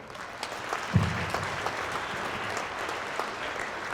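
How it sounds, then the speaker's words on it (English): An audience at a college awards and recognition ceremony applauds a faculty award recipient, a steady wash of many hands clapping at moderate distance, sustained without pause. "Let's have a round of applause for Kayla."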